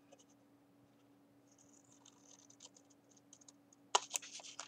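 Paper being cut into a circle for a tag card, with quiet faint snipping ticks over a steady low hum, then a louder burst of crisp cuts and rustling near the end.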